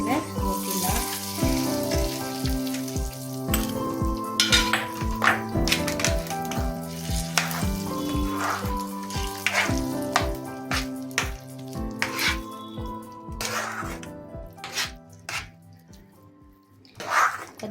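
Cashews fry in hot ghee for rava kesari, crackling and sizzling steadily up close with occasional stirring taps from a spoon throughout.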